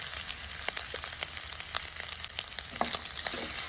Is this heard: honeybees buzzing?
no